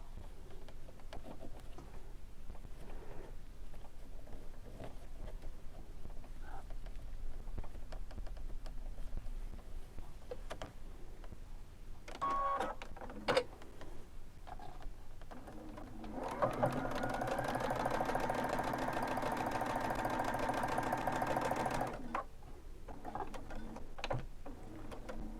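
Sewing machine stitching a fabric face mask with a lock stitch at the start and end, a steady close mechanical whir running for several seconds after quieter handling and short bursts.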